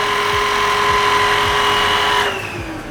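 A Kurumi KV05 vacuum cleaner is switched on with its brush spinning, a loud, close, steady motor whine with a buzzing hum that begins to wind down near the end.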